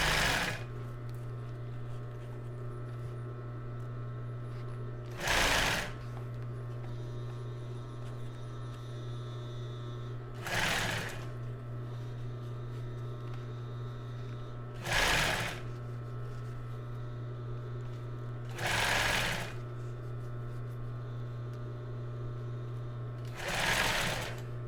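A sewing machine stitches the other side of a strapless fabric topper in five short bursts at regular intervals, over a constant low mains hum.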